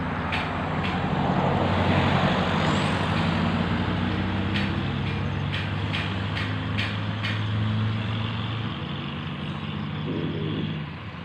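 A truck used to haul water for cows on a cattle farm rumbles close by with a steady engine drone, several short sharp clicks or hisses, and a lower rumble as it eases off near the end.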